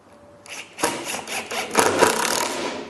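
A power driver sends screws into a pool snooker table to secure the cushion block, a short, rising whirring and grinding burst that lasts a couple of seconds, close up.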